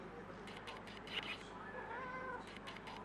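A pet cat meows indoors at a home nail-art station, a couple of faint drawn-out meows with a wavering pitch amid low room noise and light handling sounds.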